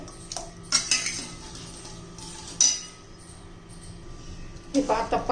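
Sugar syrup for laddoos is stirred in a pan, with a few sharp metallic spoon clinks against the rim amid quiet bubbling and light handling noise.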